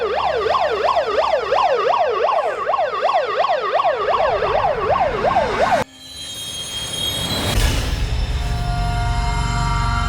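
Wailing ambulance siren on an emergency vehicle, loud and close, sweeping up and down in a steady rapid cycle, then cut off abruptly into a different scene of loud roaring noise and crowd bustle.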